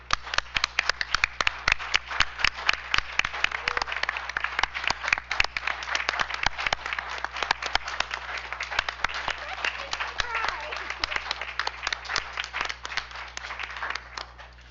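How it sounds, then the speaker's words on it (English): Steady round of applause for Stephanie at a school board business meeting, a smallish room of people clapping with distinct individual claps, close and continuous for the whole stretch. "Round of applause, please, for Stephanie."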